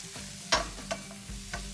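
Onions, celery and garlic sautéing lightly in a pan for a turkey roulade, a soft steady sizzle with a few sharper scrapes and clinks of stirring, close and quiet, no talking.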